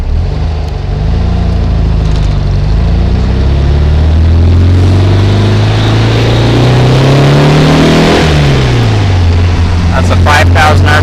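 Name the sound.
1800 engine with 009 distributor revving to 5,000 RPM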